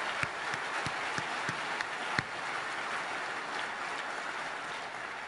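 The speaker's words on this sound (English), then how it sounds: "And another round of applause for all the people who brought this together." Conference audience applause, fairly faint and distant, a soft continuous patter of many hands with a few sharper claps standing out near the start.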